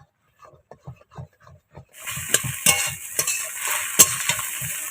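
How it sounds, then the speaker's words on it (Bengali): Eggs fried in a pan and stirred into crumbles for mixed veg rice: a close scraping and sizzling starts partway in, broken by repeated spatula strokes after a few soft taps. "ঘেটে দেব আস্তে আস্তে গুঁড়ো গুঁড়ো হয়ে যাবে আমি পাঁচটা ডিম দিয়েছি"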